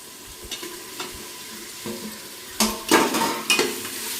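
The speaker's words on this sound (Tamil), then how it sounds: "தக்காளி எல்லாம் வதக்கி விட்டுப்போம்" Tomatoes sautéing with ginger-garlic paste for mushroom biryani, a soft steady sizzle with scattered spoon scrapes that grow into several louder, busier stirring strokes near the end.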